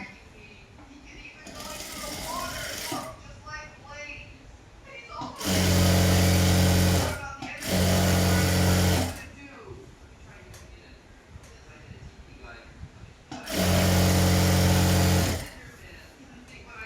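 Loud, close sewing machine stitching the front and back pieces of straight pants in three separate bursts of a few seconds each, with someone talking in the quieter gaps between runs.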